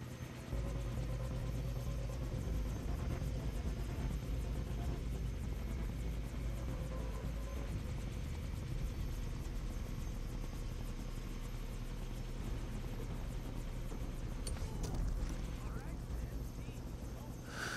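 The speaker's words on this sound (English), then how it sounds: "Can't let them put Ollie in the chopper." A helicopter in the video game Far Cry 3 gives off a loud, steady rotor rumble and drone that continues throughout, with game voices talking over it.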